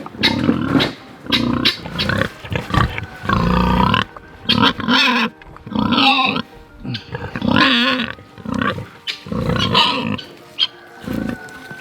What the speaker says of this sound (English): We have the 3 little pigs.